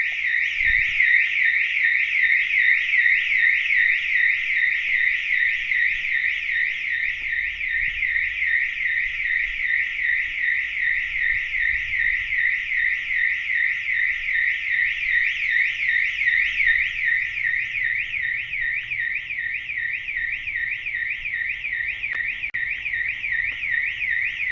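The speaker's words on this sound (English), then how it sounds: "I'm going to activate the alarm system again." An Autowatch 695 car alarm system, a Category 2-1 unit with immobiliser, sounds continuously at close range, a shrill rapidly warbling electronic tone pulsing evenly without pause for over twenty seconds.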